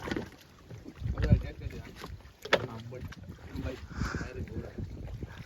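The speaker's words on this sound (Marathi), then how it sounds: "कळसुली डॅम ना रे ड्रायव्हरने बोट काढलं" Boat ride on the Kalsuli dam reservoir, with wind buffeting the microphone and water and hull noise rumbling throughout, mixed with bumps and people talking nearby.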